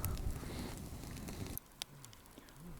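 Soft crackling and popping from a campfire outdoors while duck feathers are plucked into it, a steady dense patter that thins out into a few sharp isolated snaps.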